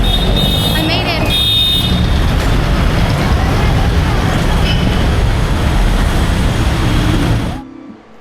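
Dense, steady roar of Manila road traffic, engines and tires rumbling close and loud with a few horn-like tones early on, continuing unbroken for several seconds before cutting off abruptly.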